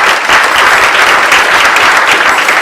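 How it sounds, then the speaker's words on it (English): Gala audience at The Buffalo Club honoring Nancy and Bill for Daemen College bursts into sustained, dense applause, loud and steady from start to finish with no talk over it. "We need to give Nancy and Bill a round of applause for what they have done to Daemen College."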